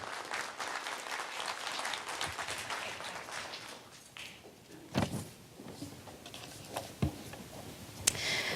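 An audience at a Chamber of Commerce business breakfast claps steadily, a moderate wash of many hands that thins and dips midway, with a few sharper individual claps and knocks cutting through near the end.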